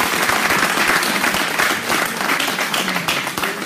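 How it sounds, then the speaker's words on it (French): A church congregation at a prayer programme in Lyon applauding to acclaim the Lord, loud sustained clapping from many hands filling the room without a break. "On acclame le Seigneur."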